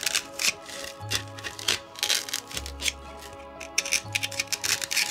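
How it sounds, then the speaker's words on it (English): Irregular crunching and squeaking of styrofoam being pressed, with bursts of crackly friction and low creaks, close up and fairly loud. "I'm following that line and pushing in on the styrofoam. Hear it crunching."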